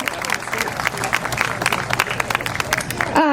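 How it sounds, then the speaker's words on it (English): Applause breaks out at a veterans night event, many hands clapping in a lively patter with some voices mixed in, ending abruptly. "I'd invite you all to join me in a round of applause for those veterans who are gathered with us here tonight."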